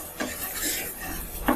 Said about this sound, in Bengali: ভালো করে মশলাটাকে ভেজে নিচ্ছি।